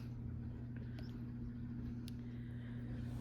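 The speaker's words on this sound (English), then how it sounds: "sorry if you can hear the dryer in the background" A clothes dryer runs with a steady low mechanical hum and rumble throughout, drumming in another room, with a few faint clicks on top.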